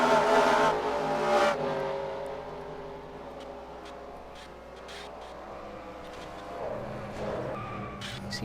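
Race trucks skidding and wrecking in a racing video game, a loud tire-squeal and engine roar up front that fades into a lower steady engine drone with faint scattered clatter.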